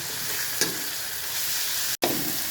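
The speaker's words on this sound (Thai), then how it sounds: "ใส่กระเทียมเจียวให้หอมก่อนนะครับ ให้เหลืองเลยนะ ใส่พริกเลยครับ" Garlic and chilies fry in oil in a pan for a spicy Thai stir-fry, producing a continuous loud sizzle with brief stirring scrapes and a short break near the end.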